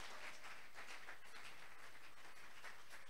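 Church congregation clapping in praise, a faint, continuous patter of many hands heard from a distance at low level.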